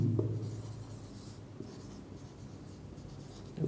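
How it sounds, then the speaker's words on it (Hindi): Pen scratching across paper while a journal entry narration for a furniture purchase is handwritten, a soft continuous scrawl with faint strokes, low hum beneath and a few light taps. "यहाँ पे एक नरेशन लिखेंगे"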